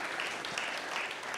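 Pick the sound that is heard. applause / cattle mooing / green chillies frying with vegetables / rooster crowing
applause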